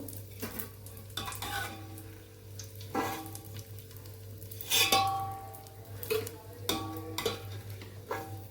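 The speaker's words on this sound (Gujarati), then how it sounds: "અહીંયા આપણું ઘી ગરમ થઈ ગયું છે તેમાં ગુંદ ઉમેરીને આપણે તળી લેશું" Pieces of edible gum (gond) fry in hot ghee for winter adadiya sweets, giving a steady low sizzle with soft scraping stirs and light clinks of a utensil against the pan throughout, with no talk.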